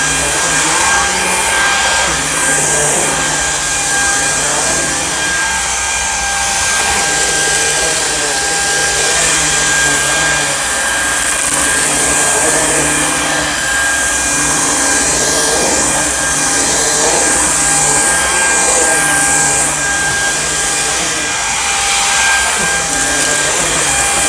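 A Samsung Jet VS70 cordless vacuum cleans a carpeted stair, giving a loud continuous motor whir and airy suction hiss that holds steady throughout, with no talking over it.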